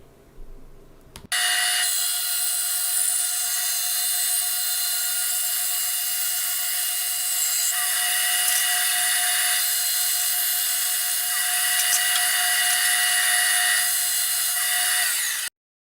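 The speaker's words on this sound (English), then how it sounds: "I drew up a template on some MDF and cut it out on the bandsaw." A bandsaw cuts an MDF leg template with a steady, loud, high-pitched whine that holds evenly for about fourteen seconds after starting abruptly, then cuts off.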